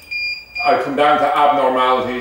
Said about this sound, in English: the reason it's beeping here is that there's no hard drive in it